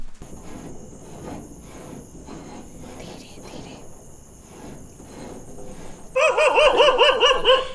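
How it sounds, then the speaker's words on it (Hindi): Dogs bark at night: several muffled barks come through quiet ambience, then a burst of loud, rapid, close barking fills the last seconds. "नीतू तो को देख के कुत्ते भौंकने लगे"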